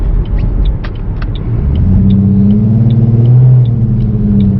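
A 2005-2009 Ford Mustang S197 merging onto a highway behind another car, its engine a steady close rumble that swells slightly as it gathers speed, with no one speaking.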